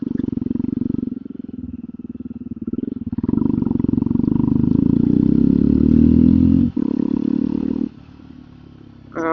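A motorbike engine starts and revs, a loud, steady rumble near at hand that rises in intensity midway, briefly cuts out, then settles into a lower idle.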